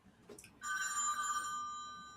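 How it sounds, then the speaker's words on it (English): A mobile phone rings in a coffee shop, a bright electronic ringtone that starts abruptly after a few faint sounds and holds steadily before gradually fading, close by but quiet. "My phone's ringing up."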